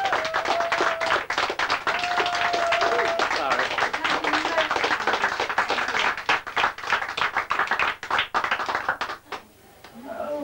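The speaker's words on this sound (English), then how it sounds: "Can we have a round of applause for the content?" Sustained clapping and cheering from a comedy club audience in Lewes, dense and steady for most of the stretch, then thinning out near the end as the crowd quiets.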